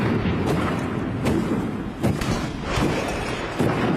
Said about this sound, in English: even shooting the cannon need to be practiced in sync, in synchronization